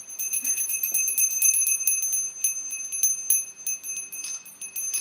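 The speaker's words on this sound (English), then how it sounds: "You hear the bell?" Bright, high bells ring in repeated clusters of strikes at a Christmas livestream with Santa on a four-acre property, sustained tones shimmering throughout.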